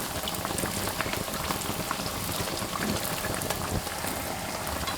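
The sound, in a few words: youtiao dough sticks deep-frying in hot oil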